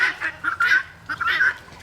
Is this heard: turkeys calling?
yes